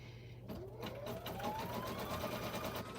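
A sewing machine runs at a steady, even hum with a rising whir as it speeds up, fairly faint, with no talk.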